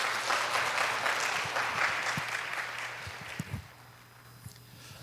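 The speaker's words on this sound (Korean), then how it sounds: "따뜻한 박수 부탁드립니다." Applause welcomes a pastor stepping up to give a congratulatory message at a school graduation ceremony, steady clapping that slowly thins and fades toward the end amid a low hum and a few knocks or footsteps.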